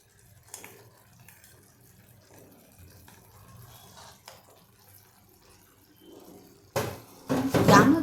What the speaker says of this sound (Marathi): आता थोडंसं पाणी मी घालते